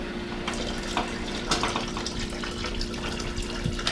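Spring water pours steadily into a kettle, a continuous splashing gush with low hum underneath, even and close throughout.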